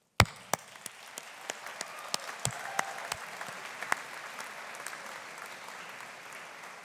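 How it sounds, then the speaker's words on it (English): Audience applause at a university graduation ceremony for the Faculty of Humanities & Social Sciences: scattered, fairly distant clapping with sharp individual claps standing out over a steady wash of hands, no talking. "let us take the moment to acknowledge and applaud them for the support they've given you"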